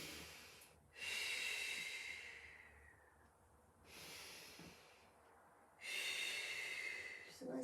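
A person breathes slowly during a Pilates exercise, three long, loud breaths close to the microphone, rushing in and out at a steady pace with quiet pauses between.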